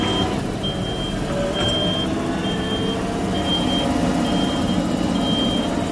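A farm truck reverses with its backup alarm beeping steadily in short regular pulses over a loud, constant engine rumble, close by, with no talking.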